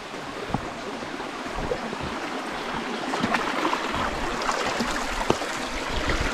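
A rocky river flows with a continuous hiss of rushing, splashing water, close and fairly loud throughout.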